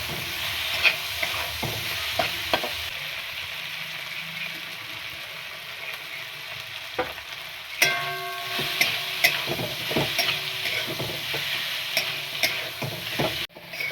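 Chopped boiled potatoes are stirred into a frying pan for a dry potato sabzi: a steady sizzle runs throughout, broken by repeated spatula scrapes and knocks against the pan, with no talking.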